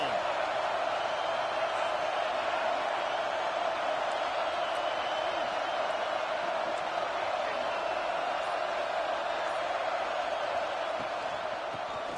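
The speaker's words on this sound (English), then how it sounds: "This crowd ready to make its presence known" Stadium crowd in a college football video game, a constant dense roar of many voices heard from a distance, steady and unbroken, with a commentator talking over it.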